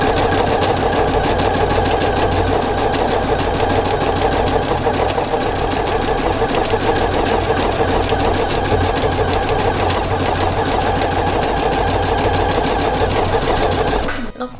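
Sewing machine stitching a seam all the way around a homemade knitting-needle case, running continuously and steadily at close range for the whole stretch, stopping abruptly at the very end.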